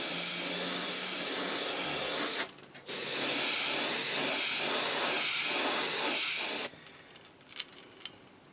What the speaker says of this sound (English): we're going to spray her down with a white base coat